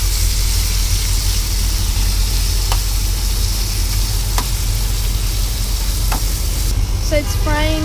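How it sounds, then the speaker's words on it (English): Onions, garlic and tomatoes frying in a pan over a medium flame give a steady, close sizzle throughout, with a few sharp clicks and a short scraping stir near the end. "So it's frying on a medium flame."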